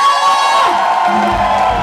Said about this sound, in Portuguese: E as palmas pra galera!